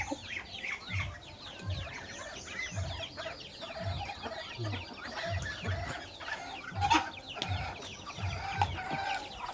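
A flock of ducks quacks and chatters continuously, many birds calling over one another at close range.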